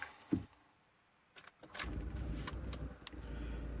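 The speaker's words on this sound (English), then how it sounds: "So we have to cut the car on." A Honda Insight clicks and stirs, then its engine starts up and settles into a steady low hum with a few sharp clicks over it, heard from inside the car.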